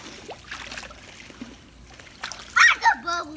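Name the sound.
child splashing in swimming water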